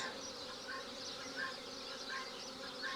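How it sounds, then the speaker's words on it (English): Wasps swarm a beehive in a steady, faint buzzing drone, with individual insects whining past now and then. "There's still wasps trying to get in there, but they are on full attack by the looks of it."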